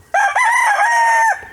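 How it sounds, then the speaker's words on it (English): A homestead rooster lets out a single loud, close cock-a-doodle-doo crow lasting just over a second, clear and alone against a quiet farmyard. "Rooster. He's trying to let me know he's there."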